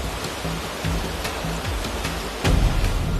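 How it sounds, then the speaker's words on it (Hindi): A steady rush of rainwater pouring and flowing into a hospital patients' ward in Gandhinagar, continuous and fairly loud, with a low droning hum underneath. "गांधीनगर के एक अस्पताल में बारिश का पानी मरीजों के वार्ड तक बहकर दाखिल"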